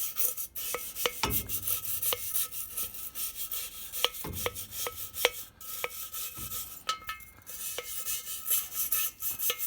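A wire brush rasps and rubs at soot on the glow plug of a 5 kW Chinese diesel heater, in short repeated scrubbing strokes with sharp scrapes, close and fairly quiet, no talking.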